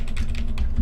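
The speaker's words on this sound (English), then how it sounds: "I may have fixed how loud my keyboard and mouse were." Computer keyboard keys tapped in a quick run of close, crisp clicks over a low steady hum, with no voices.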